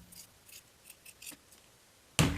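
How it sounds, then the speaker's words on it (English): Scissors trimming a fabric seam allowance close to the stitching, a few quiet snips in an irregular rhythm and then one loud, sharp close snip at the end. "Then we can trim our seam allowance about 1/8 of an inch away from our stitches."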